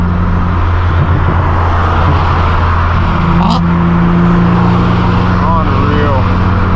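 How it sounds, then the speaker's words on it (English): Cars passing on the road during a supercar rally, a loud continuous engine drone with a rising pass near the middle, and voices talking over it. "We'll let some of these cars pass."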